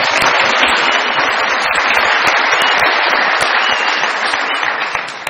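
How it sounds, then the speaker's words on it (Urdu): An audience breaks into sustained applause, dense and loud clapping from many hands that carries on steadily and begins fading at the very end. "بہت ساری تالیاں"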